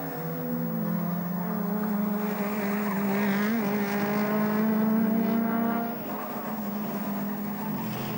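Race cars at full throttle on the Nürburgring during the 2004 24-hour race, a loud sustained engine roar with rising and falling pitch as a car passes close and fades away.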